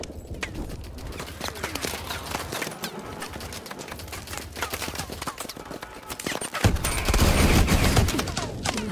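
Heavy gunfire crackles in rapid, dense volleys throughout a Call of Duty: Advanced Warfare battle against a Titan, with a louder, boomier launcher blast swelling near the end.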